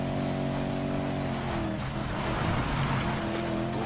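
Steady engine drone of a car driving in the racing video game Need For Speed Payback, a continuous, even motor hum with layered tonal whine and no pauses throughout.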